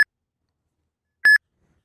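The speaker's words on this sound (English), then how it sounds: "Your phone will start beeping, and the screen will flash." Two short electronic beeps from the Uber driver app signalling a trip request, one at the very start and another about a second later, clear and tonal with nothing else around them.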